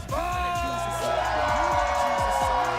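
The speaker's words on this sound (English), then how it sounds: "Listen to the thunderous applause for Hector Navarro." A cheering crowd roars for returning contestant Hector "the Nightmare" Navarro at a Movie Trivia Schmoedown match, a steady, dense wall of voices and whoops under a loud announcer's voice throughout.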